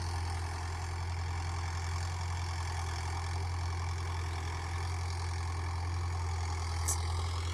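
A Mahindra Yuvo Tech+ 575 4x4 tractor works a clay field, its engine giving a steady, loud, low drone that holds without a break from start to finish, with no talking over it.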